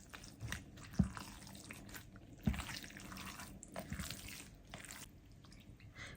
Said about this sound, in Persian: همینطور که دارید میبینید اون مقدار آبو داره یواش یواش اضافه میکنه به گوشتمون